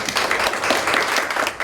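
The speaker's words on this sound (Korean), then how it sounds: "큰 박수로 맞아주시기" Audience applause at a policy forum on a social venture support ordinance, a steady wash of clapping filling the room for the whole short stretch with no one speaking.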